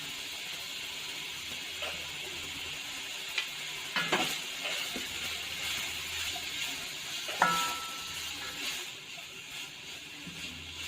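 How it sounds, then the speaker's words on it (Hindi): Capsicum sautéing in a pan for chicken and vegetable spring rolls, giving a soft continuous sizzle with occasional scrapes and taps of a spoon stirring. "इसको हम 1 से 2 मिनट के लिए सौते करेंगे। अब हम कैप्सिकम ऐड करेंगे इसके अंदर।"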